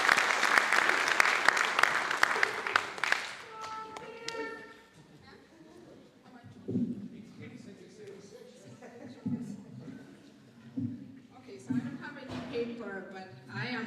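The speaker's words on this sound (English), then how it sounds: "Please have a round of applause for Dr." Audience applause for Dr. Haidu at a World AIDS Day 2010 gathering in Fresno, California: a dense burst of clapping for about three seconds, then fading as a speaker begins talking at the microphone.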